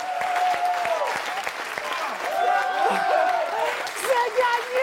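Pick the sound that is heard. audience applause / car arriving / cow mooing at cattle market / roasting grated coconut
audience applause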